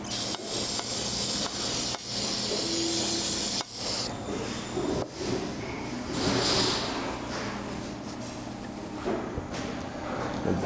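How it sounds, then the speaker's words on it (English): Brake cleaner sprayed into a Predator go-kart engine being converted for kart racing, a loud steady aerosol hiss in long bursts, broken by short pauses and fading to quieter rubbing and handling noise. "And then I'm going to spray a little brake clean in there."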